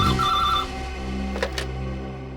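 A telephone rings with an incoming call late at night, its bell tone repeating steadily and fairly close over a low steady hum, with no voices.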